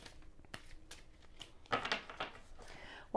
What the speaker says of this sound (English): So I'm just shuffling these for Capricorn for the August reading.